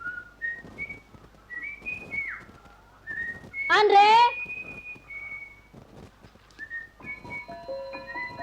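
Someone whistles a wandering tune in short phrases, fairly close, with a sudden louder burst partway through and faint background sounds around it.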